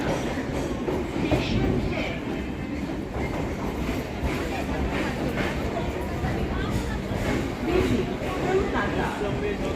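A Kolkata local train runs into Kolkata station from BBD Bag, giving a steady, loud rolling rumble with faint rhythmic clatter and a dull background of crowd murmur throughout.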